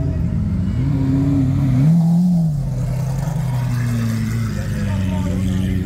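Lamborghini Aventador SVJ with an aftermarket exhaust at a supercar charity event, a loud, close engine note rising and falling through revs over steady crowd and background noise, with voices audible.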